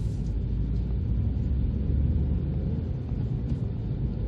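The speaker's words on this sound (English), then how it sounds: "Very smooth engine." A 2020 Ford Fiesta Active 1.0 three-cylinder petrol engine running while driving, heard as a steady, low rumble from inside the car with constant road noise and no talking.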